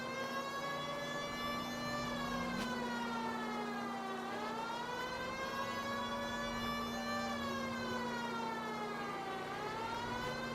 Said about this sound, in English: Hope you like Siren ASMR, chat.